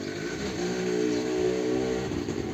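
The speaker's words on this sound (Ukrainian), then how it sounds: "ну це ж треба зараз тому мотоциклу їхати" A motorcycle engine drones nearby, its pitch rising and holding steady as it passes, loud and continuous with no talking.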